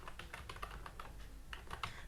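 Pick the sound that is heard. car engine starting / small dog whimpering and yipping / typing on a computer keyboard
typing on a computer keyboard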